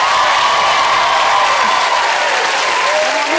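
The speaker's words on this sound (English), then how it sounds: "We're going to give you a lovely round of applause" Studio audience at a TV comedy show breaks into loud, sustained applause, a dense even wash of clapping with faint whoops threaded through.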